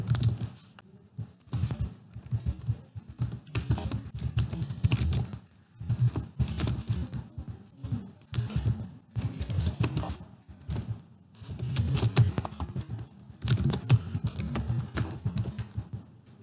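Typing on a computer keyboard while building slides in Microsoft PowerPoint 2007, close and clear, in bursts of rapid key clicks separated by short pauses, with no talking.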